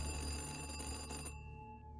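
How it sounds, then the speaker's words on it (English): A telephone bell rings in a room, a loud ring lasting about a second that cuts off, with its tone fading away afterward. "We get woken up by the phone ringing"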